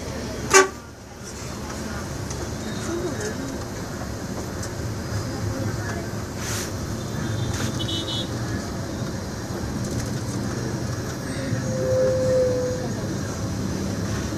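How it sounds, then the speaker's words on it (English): Heavy city traffic in Manila rumbles steadily for a long stretch, with one sharp car horn blast near the start and a few fainter honks later, while voices murmur in the background. "now that's heavy traffic. It's an everyday sight here in Manila."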